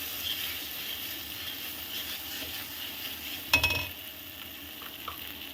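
Mashed pea kochuri filling sizzles faintly in a pan while a spoon stirs it, with a soft steady fry and one sharp scrape of metal against the pan partway through.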